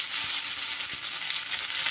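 Garlic sizzling in oil in a pan, a steady bright hiss with faint crackles, close and even throughout, no voices.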